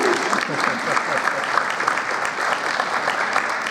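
Parents in the audience at a high school marching band's indoor concert clap steadily and fairly loudly throughout, with a voice speaking over the applause.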